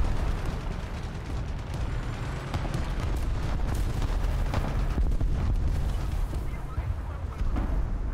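Artillery strike explosions in War Thunder: a continuous rumbling barrage of booms and cracking blasts with dense low roar throughout, heavy and close.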